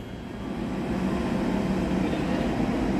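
KRL Jalita electric commuter train at a 100-year KRL anniversary parade, giving a steady low rumble and hum that holds loud and continuous throughout, with no talk over it.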